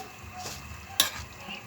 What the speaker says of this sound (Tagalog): Pero gigisa ko lang po ito kasi luto na rin naman po itong